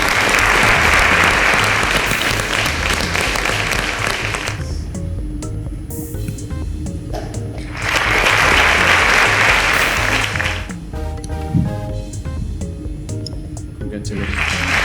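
Loud, sustained applause from a large audience at a televised school quiz grand final, rising in long bursts that fade and swell again, with quieter gaps between them.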